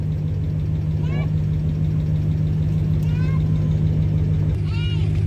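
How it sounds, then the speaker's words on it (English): A 2009 Dodge Ram's 5.7 Hemi V8 idles steadily just after starting, a continuous low, even drone held close to the mic, with a few brief high chirps rising over it. "It crunked up. It started. Now I'm gonna let it run for a little while."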